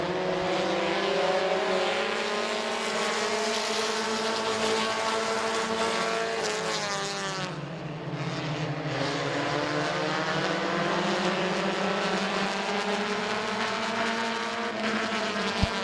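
Race cars roaring through a heat race at Midvale Speedway, a loud, continuous engine drone with layered motors rising and falling in pitch as the pack passes close by.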